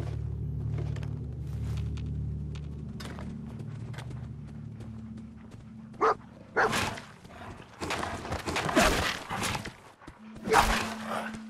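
A dog in the Fallout 4 video game barks in a flurry of sharp, close barks during the second half, after a quieter stretch of low droning game ambience.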